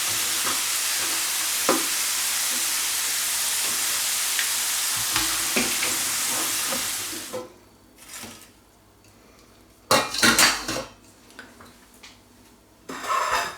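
Meat reheating in a pan gives a loud, steady frying sizzle for several seconds, then cuts off into quieter stirring clatters and a few utensil knocks against the pan.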